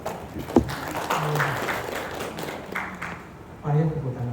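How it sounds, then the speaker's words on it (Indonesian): An audience at a government presentation on social forestry in West Sumatra breaks into a brief spell of clapping, moderately loud and mixed under a speaker's voice. "Tepuk tangan Bapak Ibu."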